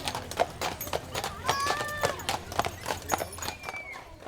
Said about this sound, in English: The beautiful Express Clydesdales stopped in Torrance as they headed to Hollywood for its Christmas parade.